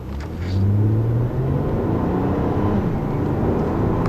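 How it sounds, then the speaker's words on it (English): 2013 Acura RDX AWD accelerating in sport mode, the engine note rising in pitch and then dropping at a gear shift before climbing again. Heard from inside the cabin, with a steady road rumble and no talk. "I'm going to put it into sport mode here. You guys can get a feel for how this car shifts."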